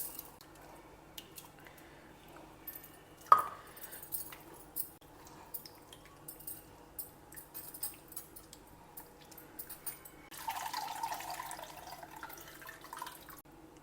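Soaked tamarind, about a large lemon's worth, is squeezed by hand in hot water to draw out the juice: faint wet squishing and dripping, louder in a final few seconds of sloshing.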